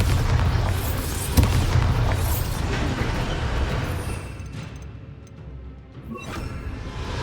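Bombarda spell explosion during a dragon rescue in Hogwarts Legacy: a heavy, close boom with a deep rumbling body that swells and fades over several seconds, with whooshing game effects following.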